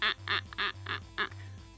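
A voice imitates a raven call with four or five loud, harsh, nasal caws in an uneven rhythm, close and alone with no other sound.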